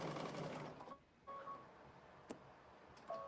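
A sewing machine running a zigzag stitch on a spring bubble skirt, a close mechanical whir in short runs broken by brief pauses and a couple of sharp clicks.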